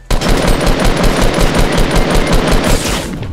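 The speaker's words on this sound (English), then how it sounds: "They just got sniped." Rapid automatic gunfire rattles in Fortnite, a loud, close, continuous burst of evenly spaced shots lasting about three seconds before tailing off, with no voices over it.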